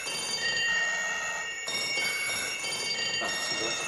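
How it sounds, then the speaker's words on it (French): An indoor doorbell rings with a sustained, steady electronic buzz that runs continuously for several seconds, while voices talk quietly beneath it. "Qu'est-ce qu'elle a, cette sonnette?"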